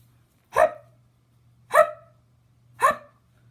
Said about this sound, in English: No, he has the hiccups.